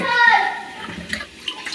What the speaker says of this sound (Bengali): আলু আর ফুলকপিগুলো আমরা ভালো করে ধুয়ে নিলাম।